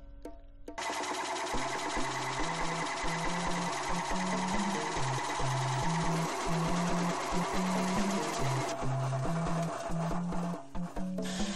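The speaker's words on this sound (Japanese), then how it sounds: "サークルカッターを用意してボール板に取り付けてゆっくり穴を開けます。" A drill press fitted with a circle cutter bores a hole in a board for a homemade speaker box. The steady, loud mechanical whir carries a rhythmic, pulsing chatter from the cutter biting the wood and runs nearly unbroken, close up.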